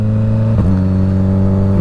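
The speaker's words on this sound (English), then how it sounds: "this Dominator exhaust is pretty loud, if you can't tell already" A 2025 Suzuki GSX-S1000 motorcycle fitted with a full Dominator exhaust revs loudly up close, a steady throaty drone with a brief blip of throttle midway before settling back into the same even rumble.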